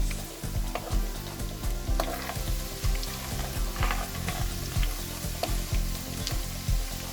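Garlic and mustard seeds frying in a pan for a restaurant-style chicken masala fry, a dense continuous sizzle with crackling pops and repeated stirring scrapes throughout, close and fairly loud.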